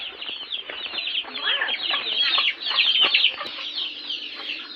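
Chickens cluck and squawk continuously inside a poultry shed, a dense, busy chorus close by with some wing flapping and faint voices underneath.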